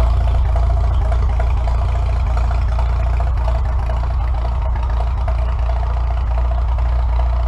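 A Farmall M tractor engine runs at a steady, loud idle with a low throbbing rumble and light mechanical clatter, continuous and close throughout with no talk.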